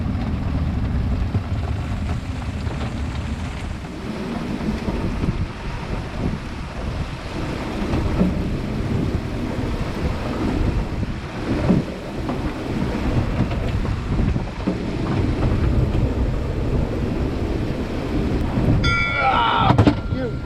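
A thunderstorm at sea heard from a sailboat: rumbling thunder and wind buffeting under steady rain, with low heavy gusts throughout and someone speaking briefly near the end.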